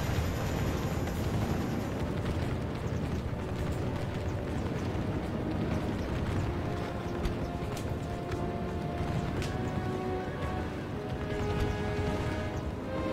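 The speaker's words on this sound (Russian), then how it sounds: "Такая стрельба не слабая происходит." Battle gunfire in the strategy game Fire and Sword 2 Total War, a dense, continuous roar of musket volleys and clashing noise with scattered sharp cracks, loud and steady throughout.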